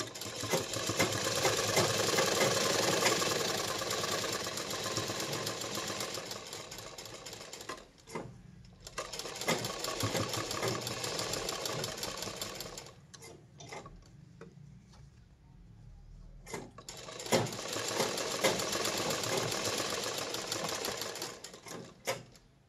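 A sewing machine double-stitches a silk blouse around the attached sleeve in three long close runs of rapid mechanical whirring, separated by brief pauses and a few clicks.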